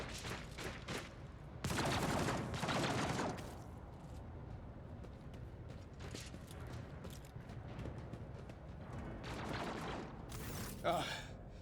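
Gunfire rattles in the Warhammer 40,000 Rogue Trader video game, with heavy bursts of rapid shots, a loud sustained volley and scattered impacts as battle noise continues underneath.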